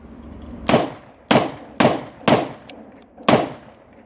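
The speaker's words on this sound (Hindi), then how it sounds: "एक मैगजीन से हमने फायर कर दिया" A Beretta 92FS 30 bore pistol test fired outdoors, five loud, sharp shots spaced roughly half a second apart, each with a short echoing tail.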